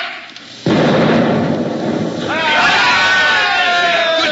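A ship's cannon fires a round in a radio drama, a sudden loud blast that rolls into a long rumbling roar lasting several seconds while voices carry on over it.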